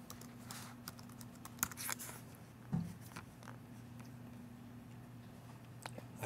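Quiet, irregular keystrokes on a computer keyboard as a layer name is typed in Flash, a few brief bursts of clicks close by, with no talking.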